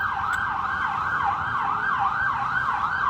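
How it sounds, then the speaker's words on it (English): An ambulance siren wails on a downtown Washington DC street, its pitch sweeping up and down in a steady repeating cycle, fairly loud and close over low traffic rumble. "And you see the ambulance back there?"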